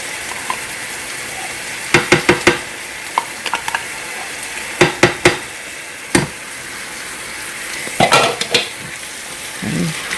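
Tomato paste from a 6-ounce can being stirred into thick crockpot lasagna soup with tomato sauce, giving a series of close, short scraping and clinking strokes in bursts, with no talking.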